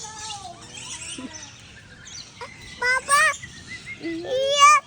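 Small birds chirp and tweet in a mix of rising, wavering calls, close and fairly clear, with a louder cluster of chirps near the end and children's voices faintly underneath.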